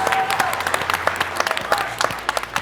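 An audience at a live finale of a concrete-building competition claps and cheers. The clapping is dense and close, and a few voices call out over it.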